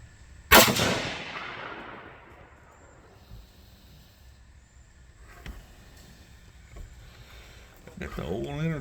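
A single sharp rifle report from a 300 Blackout firing Federal Fusion 150 grain ammunition cracks loudly nearby, then rings out in a long fading tail. Quiet outdoor ambience follows, with a voice near the end.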